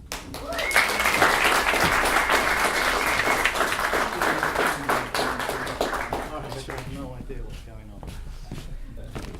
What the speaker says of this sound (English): Give a warm round of applause to Ade